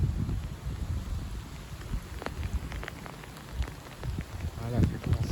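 Raindrops of an evening April shower patter and tick on a surface amid low wind rumble, scattered sharp taps of light rain starting to fall.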